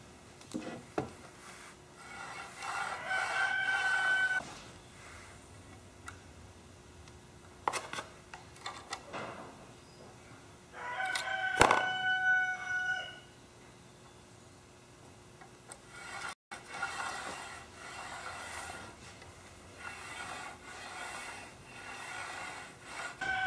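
The bearing of an 8 ball slider runs noisily along its track in intermittent passes. Each pass gives a close, rough rolling scrape with scattered clicks and taps, separated by quiet gaps.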